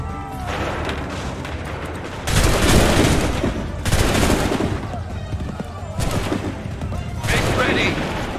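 Musket volleys crackle in Assassin's Creed III, with loud bursts of massed gunfire arriving in several waves, each rolling crackle lasting a second or more, with shouted commands in between.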